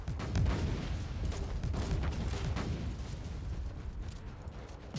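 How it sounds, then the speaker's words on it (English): Grenade launcher fire in the video game Warhammer 40k Inquisitor Martyr: a steady barrage of booming launches and explosions piling up into a continuous rumbling clatter, loud and without talk. "I finally got my grenade launcher. Sounds like it's a toilet roll launcher."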